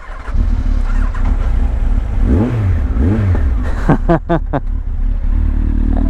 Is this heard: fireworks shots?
no